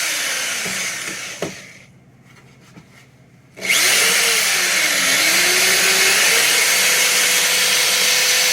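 Power drill with a Forstner bit boring an angled hole into a wooden board for a step stool, a short burst and a pause, then a loud sustained whirring grind as the bit bites into the wood.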